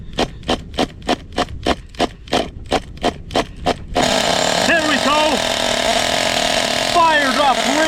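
An OS 21 nitro engine in a Traxxas T-Maxx RC truck on a cold day, first a string of rhythmic pull-start or priming bursts, then catching into a loud, continuous buzzing idle with revving rises and falls.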